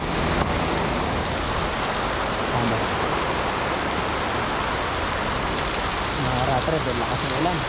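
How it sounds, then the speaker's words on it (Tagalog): Heavy rain falling while motorcycle riders shelter during a stop on a ride from Manila to Atok, Benguet, a steady dense broadband roar throughout, close and loud, with faint voices mixed in underneath. "Ang lakas na ng ulan."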